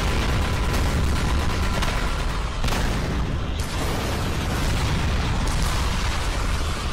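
Dense, continuous barrage of booms and bursts from explosions and gunfire in a Skibidi Toilet animated episode, loud and sustained throughout with no pauses or talk.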